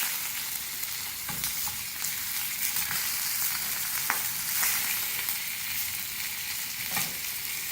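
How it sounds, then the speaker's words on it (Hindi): Fish heads fry in hot oil over a medium flame, giving a steady, moderate sizzle with scattered pops and crackles and the odd stir, with no talk. "फिश के सरों को हमने मीडियम फ्लेम पर फ्राई कर लिया है"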